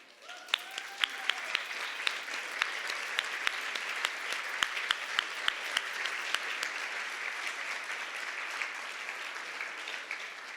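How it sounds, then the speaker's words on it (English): An awards-ceremony audience claps in a steady, sustained round of applause, dense and continuous with a few sharper individual claps standing out. "please stand for a round of applause."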